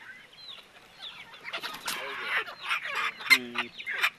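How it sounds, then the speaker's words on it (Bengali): Bearded chickens cluck in a short, irregular series of calls, with a louder, squawky note near the end, over a scratchy, rustling background. "দাড়িওয়ালা মুরগি"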